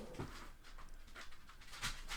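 A dog whimpers and pants over a bone in short, soft bursts close by, quiet and brief.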